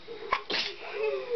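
A single sharp sneeze, close and loud, bursting out over a quiet background hum.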